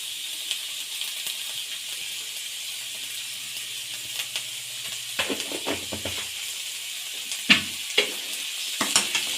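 Vegetables stir-frying in a hot pan for chicken fried rice, a steady close sizzle with occasional scraping and stirring clatters, no voices.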